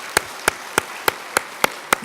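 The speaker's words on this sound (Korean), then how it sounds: "격려 감사하는 의미에서 박수 좀 쳐주면" Seven sharp hand claps in a steady, even rhythm during a church service, close and distinct against a quiet background.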